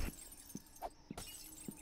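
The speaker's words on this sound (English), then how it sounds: "Man, I'm breaking all the glass in the house." Glass panes breaking inside a house in the survival video game 7 Days to Die, with several short, sharp shattering hits spaced about half a second apart, fairly quiet and with no talk over them.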